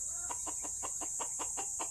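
A hen clucks in a steady run of about nine short, evenly spaced calls over roughly two seconds, moderately close against a constant high background hiss.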